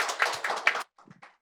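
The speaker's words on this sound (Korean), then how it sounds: "박수 부탁드리겠습니다" A short burst of applause from a lecture audience at a learning-city network event, a small cluster of claps for under a second that quickly thins to a few scattered taps and then fades.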